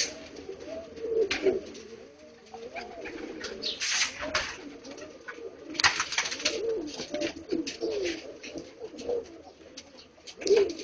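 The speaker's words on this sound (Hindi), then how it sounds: "बहुत अच्छा कबूतर है।" Shahjani pigeons coo steadily throughout, soft rolling calls overlapping one another at close range, with a few brief rustles and flutters in between.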